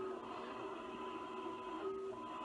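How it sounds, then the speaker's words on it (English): A 3D printer runs at a steady, close hum with faint whining motor tones that rise and dip slightly, continuous and alone without talk. "In this video, we are seeing how the 3D printer works."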